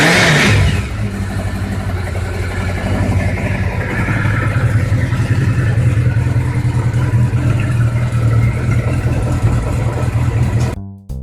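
A motorcycle bought cheaply for $200 fires up on the first cranks after a brief starter burst, then settles into a steady, loud, close-up idle with a slightly uneven mechanical clatter, running alone until it cuts off near the end.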